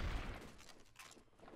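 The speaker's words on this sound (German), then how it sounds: "Ich werd beschossen." Gunfire in a first-person shooter game, a short burst of rapid shots and cracks, quiet and somewhat distant, lasting under two seconds with no talk.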